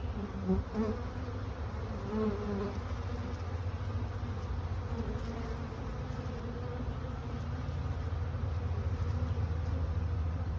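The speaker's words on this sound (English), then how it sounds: "And they're still going in the box. And there's more and more coming out." Honeybees buzz steadily around a trap-out box set on a hive, a dense continuous drone of many wings flying in and out at close range with no talking.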